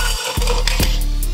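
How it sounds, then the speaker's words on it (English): Ice cubes tumble into a metal cocktail shaker tin while a rose-flavoured martini is made, two or three quick clinking rattles close to the microphone. "We'll fill our shaker tin with ice"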